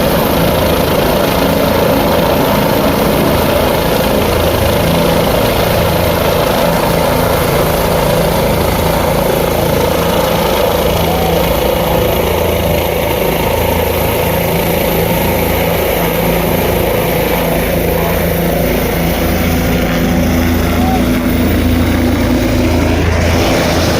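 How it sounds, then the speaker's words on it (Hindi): Several helicopters arrive in turn at the Kedarnath temple helipad, a loud, close, steady rotor and engine roar lasting throughout, with a rising whine near the end as one comes in, and no talking. "हेलीकॉप्टर की सर्विस यहाँ पर काफ़ी फास्ट थी, एक के बाद एक हेलीकॉप्टर आए जा रहे थे"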